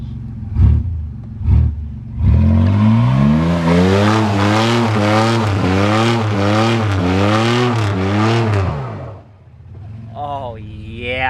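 Car engine revving hard during a burnout with the brake held: two sharp blips, then a loud, sustained rising and falling rev that wavers for several seconds and drops off, with voices briefly heard at the end.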